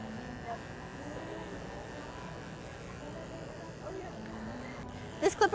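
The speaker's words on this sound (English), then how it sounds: "This clipper is also really nice for doing your sanitary areas." Electric clipper buzzing steadily while trimming hair on a poodle's feet, a low, even hum running throughout, with a few short, sharp clicks near the end.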